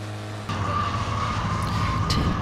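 Citroen 2CV race cars at Silverstone, a steady engine drone that swells suddenly into a louder, sustained roar as the small cars pass close by, with faint tyre squeal.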